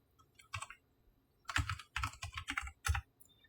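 Computer keyboard keys clatter as a file name is typed, a short tap, a pause, then a quick run of several close, crisp keystrokes in irregular rhythm.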